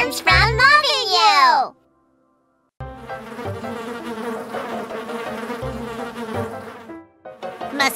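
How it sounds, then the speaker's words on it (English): Cartoon mosquitoes with a fuzzy, buzzing sound fill the middle of the clip with a busy, wavering hum. It is set between a bright sliding cartoon voice at the start and a short gap of silence, and there is childlike vocal sound around it. "Oh no! Mosquitoes! Fuzzy buzzing mosquito pilots!"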